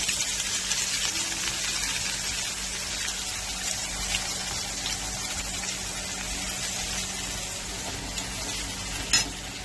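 Chopped onions go into hot oil tempered with whole garam masala, bay leaf, dried chilli and cumin seeds, giving a steady close sizzle and hiss with one small pop near the end.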